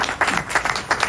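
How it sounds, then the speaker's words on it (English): Brief applause at an airline inaugural flight celebration in Atlanta, a close, loud burst of clapping with several sharp individual claps standing out over the crowd. "You all deserve a round of applause"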